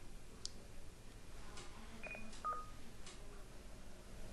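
An Icom ID-51 handheld radio sends a short series of DTMF command tones to a hotspot, brief discrete beeps spaced over a few seconds, faint against a quiet hiss.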